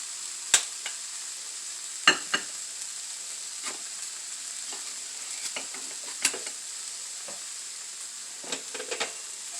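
Poor man hash frying in a pan as it's stirred: a steady bright sizzle with scattered scraping clicks of the utensil against the pan, close and continuous, several sharper scrapes standing out.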